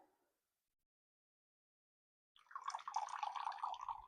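Hot water poured into a hohin teapot for sencha makes a faint, steady trickling splash lasting under two seconds after a long silence.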